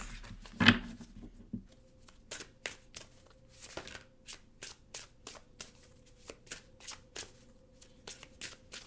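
Wisdom of Tao oracle cards are shuffled close by in a quiet room, a bumpy start followed by a regular series of crisp riffling bursts about every half second.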